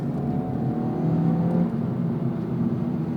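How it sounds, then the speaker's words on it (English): The 320-horsepower turbocharged 4-cylinder engine of an Acura Integra Type S accelerates with a steady, moderately loud engine hum and whir, with tonal engine notes running underneath and no talking. "We're still powered by that turbo 4-cylinder, cranking out 320 horsepower"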